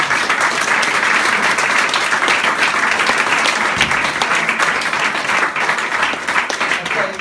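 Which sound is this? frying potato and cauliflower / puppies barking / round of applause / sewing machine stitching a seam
round of applause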